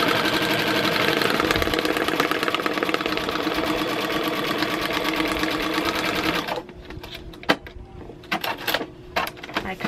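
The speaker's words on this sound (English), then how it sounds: "And then I want to sew starting 1/4 inch away from above the line, and then I want to stitch down." Domestic sewing machine with an open toe foot stitching a quilt triangle, a loud steady rapid whir for several seconds that stops abruptly, followed by faint clicks and handling sounds.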